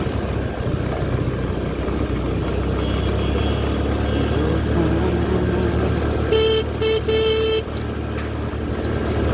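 A motorbike crossing a shaking suspension bridge over the Budhi Gandaki river gives a steady, loud engine rumble throughout, with a horn sounding in three short honks near the end.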